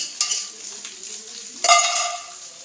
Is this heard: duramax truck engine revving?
no